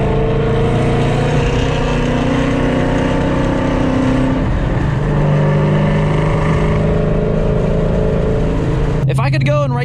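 A boosted car engine drives and revs on the road, a loud close droning roar that rises and falls in pitch through gear changes. Someone talks over it throughout.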